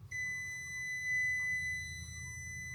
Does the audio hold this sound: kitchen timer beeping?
yes